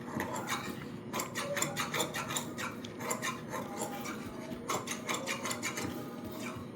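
Scissors trimming extra cloth from a blouse lining in a rapid series of crisp snips, some spaced and some in quick bursts, close and moderately loud.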